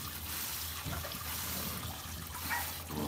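Milk streaming from a cow's teats as she is milked by hand, a soft steady hiss of liquid with faint rhythmic spurts, heard quietly up close with no voices.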